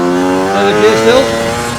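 A Chinese dirt bike accelerates in third gear, its engine giving a steady rising drone with clear harmonics that climbs slightly in pitch over two seconds, loud and close.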